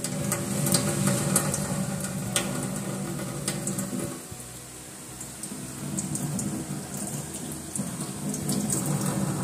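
Tap water runs steadily into a kitchen sink as food is washed for a home-cooked birthday meal, a broad continuous splashing hiss that dips briefly in the middle, with no talking.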